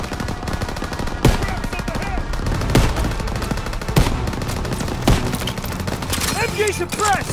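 Machine gun fire rattles through a battle in the video game Call of Duty: WWII, sustained overlapping bursts with heavier single booms every second or so, and soldiers shouting over the din.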